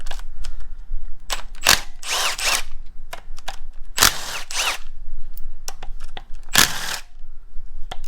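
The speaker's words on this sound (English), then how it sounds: "So let's take this pump off. The pump have 1, 2, 3, 4, all 10 mil bolts." Ratchet wrench loosening the 10 mm bolts on the oil pump of an LS 6.0 engine during a teardown, with several bursts of ratcheting clicks in a clear, nearby workshop sound.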